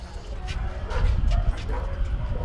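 A dog in great pain, at an animal shelter, gives a brief whimper and yelping barks that are faint and mixed under a voice.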